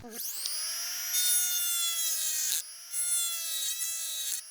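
Power grinding into the steel body panel of a kei van, a steady high whine with strong harmonics that dips briefly twice as the tool lifts off the metal and bites again, loud and close with no talk.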